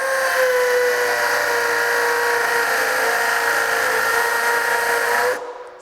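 A Craftsman brushless hammer drill with a 1/2-inch masonry bit bores into a masonry block at speed level 2 in hammer mode, giving a loud, steady, high-pitched whining squeal for about five seconds before cutting off abruptly.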